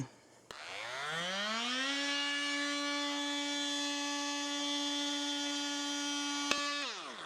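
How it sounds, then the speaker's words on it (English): A Milwaukee oscillating tool sands the edges of a table during furniture refinishing, spinning up in a rising whine and then holding a steady, loud buzzing drone for several seconds before cutting off. "To get around the edges of the table here, I'm going to be using the Milwaukee oscillating tool."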